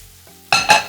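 Chorizo with chipotle and adobo sauce hits a hot pan in a short, loud burst of sizzling, preceded by a faint clink, with the hiss swelling again as the pan is shaken.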